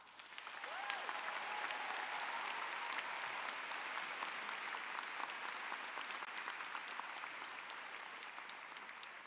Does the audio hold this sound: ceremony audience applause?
yes